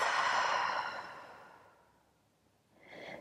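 A slow, breathy exhale through an open mouth during a yoga breathing flow, starting strong and tapering to near silence before a fresh soft breath begins.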